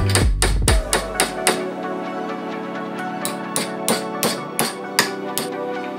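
Repeated sharp metallic hammer strikes straightening a bent metal plate, ringing out between blows, in irregular bursts of several hits with short pauses.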